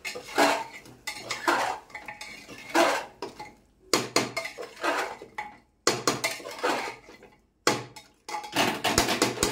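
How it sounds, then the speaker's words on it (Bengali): A tomato curry being stirred in a cooking pot, with repeated metallic scrapes and clinks of a spoon against the pot in bursts separated by short pauses, close and moderately loud. "ভালো করে নাড়াচাড়া করে নিলাম।"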